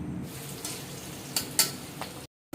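Oil frying in a pan for khichuri gives a faint, steady sizzle, broken by a few soft clinks before cutting to silence.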